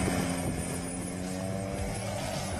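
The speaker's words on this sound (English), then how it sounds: "Shows a private helicopter crash that was caught on camera near the memorial there." A private helicopter near the Pearl Harbor memorial produces a steady, moderately distant rotor and engine drone with no voices.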